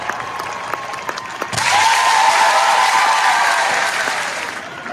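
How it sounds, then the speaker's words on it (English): Applause on a live radio show, a short burst of clapping that starts suddenly after quieter moments and holds steady before tapering off. "There, you got a proper applause for that one."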